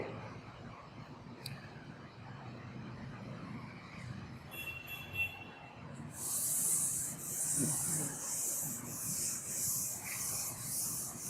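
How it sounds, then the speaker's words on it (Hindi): A table written on a classroom board being rubbed out, heard as a soft scratchy rubbing that turns louder and more continuous toward the end, with no talk over it. "ये मैं टेबल रब करूंगा बच्चों"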